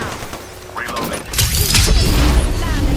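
A weapon reload in the Apex Legends video game, with quick mechanical clicks and clacks followed by dense bursts of gunfire and impacts from the match, all loud and close.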